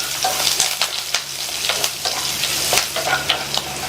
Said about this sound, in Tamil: எல்லாத்தையும் மிதமான தீயில வச்சு 1 நிமிஷத்துக்கு வதக்கிக்கலாம்.